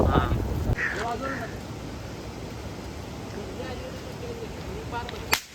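A single sharp bang, like a firecracker, cracks out near the end over steady wind and rushing water in dense village forest, with people talking throughout.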